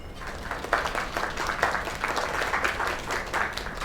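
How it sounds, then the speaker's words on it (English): Applause for a singer inside the video game Lake, a steady patter of many hands clapping at moderate loudness with a few sharper bursts, no talking over it. "Another round of applause."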